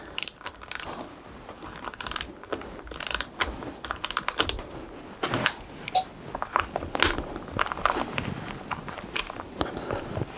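A ratchet clicks in short bursts while snugging terminal bolts on EVE 304Ah LiFePO4 battery cells during a DIY top-balance setup, close and uneven, with metallic handling clatter between strokes and no talking.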